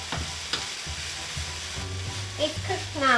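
Browned pork and chopped vegetables for spring roll filling fry in oil in a pan, a soft, close sizzle broken by a few stirring clatters, with faint low background rumble.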